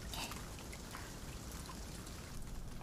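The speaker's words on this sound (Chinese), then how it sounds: "下雨了，哇，这儿的天气还挺特别的" Steady rain pours down outdoors in a close, continuous wash of patter and hiss, with no one talking.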